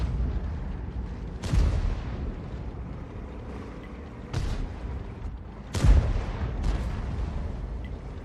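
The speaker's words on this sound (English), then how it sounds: "they're under heavy fire, and the rounds that are coming in from Chris Norman are really having an effect upon them" Artillery rounds explode on tanks in World of Tanks, three or four heavy booms at irregular intervals, each a sharp loud blast with a short rumbling tail over a low battle din.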